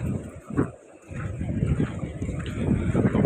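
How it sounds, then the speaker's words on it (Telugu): Strong cyclone wind batters Machilipatnam beach, a loud, gusty roar buffeting the microphone, rising and falling with rushing surf underneath. "గాలి కూడా చాలా గట్టిగా వేస్తుంది"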